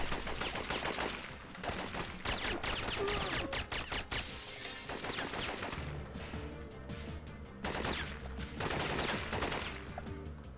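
Rapid, sustained gunfire from a 1999 PlayStation shooter, dense bursts of shots with brief pauses between volleys, loud and close with crashing impacts mixed in.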